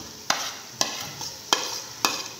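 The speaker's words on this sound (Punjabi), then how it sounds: "ਇਹਦੇ ਵਿੱਚ ਅਸਾਂ ਜਿਹੜਾ ਅਦਰਕ ਤੇ ਲਸਣ ਅਸਾਂ ਕੁੱਟ ਕੇ ਰੱਖਿਆ ਸੀ ਉਹ ਪਾ ਦੇਵਾਂ ਤਾਂ ਪਾ ਕੇ 3 ਕੁ ਮਿੰਟ ਵਾਸਤੇ ਅਸੀਂ ਇਹਨੂੰ ਭੁਨਾ ਦੇ" Crushed ginger and garlic fried with browned onions, a spoon striking and scraping the pan in four evenly spaced sharp knocks over a light steady sizzle, close up with no voices.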